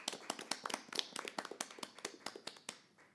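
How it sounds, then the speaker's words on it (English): Sparse clapping from a small group at a school board of education meeting, a handful of distinct, separate hand claps spread over a few seconds, fairly faint and scattered rather than a full ovation. "So if we give Bennett a round of applause."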